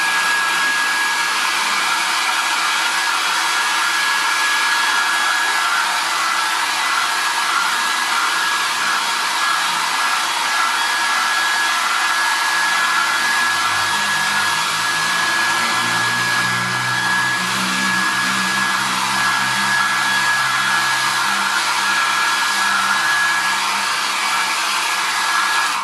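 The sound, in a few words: hair dryer drying an MDF box edge before painting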